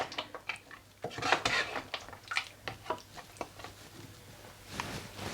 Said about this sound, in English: And then give that a stir.